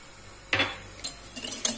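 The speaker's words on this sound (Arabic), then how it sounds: "ونخلط غير بالفو، يعني ما تحتاجش باتور ولا حاجه كبيره" A fork beats eggs with sugar, vanilla and a pinch of salt in a bowl for a light basbousa batter, giving a few faint, sparse clinks against the bowl in a quiet kitchen.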